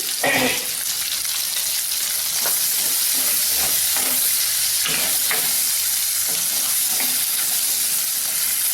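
Onions frying in a pan with turmeric until browned, a steady crackling sizzle with a few stirring scrapes, close by and continuous, no voices.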